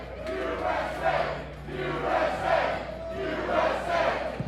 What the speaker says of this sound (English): Can we get a USA chant started to the crowd?